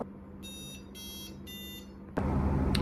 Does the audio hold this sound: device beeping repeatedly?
yes